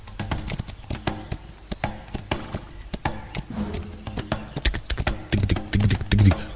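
Horse hooves clip-clop in a horse simulator video game, a steady run of sharp, close hoofbeats over backing music, growing louder toward the end.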